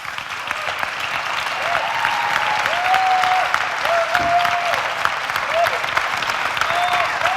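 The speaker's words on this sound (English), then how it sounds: "That alone, I guess, deserves a first round of applause" A film cinematography seminar audience claps for a Palme d'Or winning film, sustained applause building and holding for several seconds, with a voice and some tonal sounds faintly over it.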